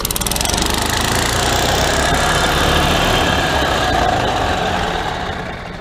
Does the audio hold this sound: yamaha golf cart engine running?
yes